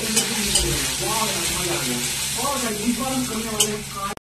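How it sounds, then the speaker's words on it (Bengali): Onions fry in a pan with a loud, steady sizzle, close to the listener, while faint tonal sounds drift over it before it cuts off abruptly. "পেঁয়াজগুলো লাল লাল করে ভাজা হয়ে গেছে"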